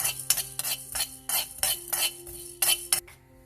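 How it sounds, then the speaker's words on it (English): Coriander and cumin seeds are stirred in a pan for Andhra-style podi, with a spoon scraping in quick, repeated close strokes over a low steady hiss, and no voices. "Now we'll add coriander seeds, cumin seeds, fry them a little bit"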